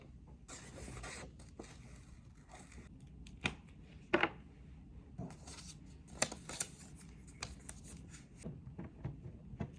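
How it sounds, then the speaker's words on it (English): Scattered sharp snips and crisp paper rustling, several quick cuts at irregular intervals, close up in a quiet room. "I'm just gonna cut this one out"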